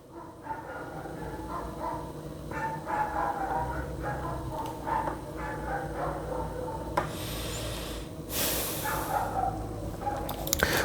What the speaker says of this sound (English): It sounds like the dogs are having a little fight outside.